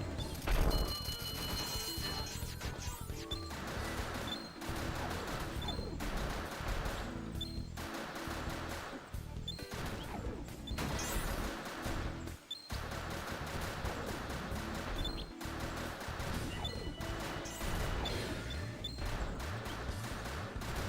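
Rapid bursts of gunfire in Final Fantasy X-2 battle, sharp repeated shots in clusters with short pauses between volleys, moderately loud, with faint clattering game effects and no talking.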